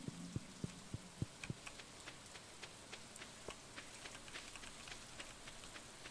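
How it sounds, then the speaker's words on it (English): Soft rain patters continuously in the Stardew Valley video game, quiet and even, with a few low thumping beats near the start. "Oh, it's raining."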